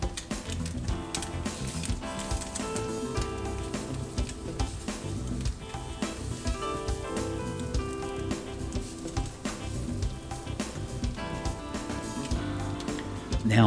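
Eggs frying in a pan just after being flipped, a steady sizzle running throughout, with background music or talk layered over it.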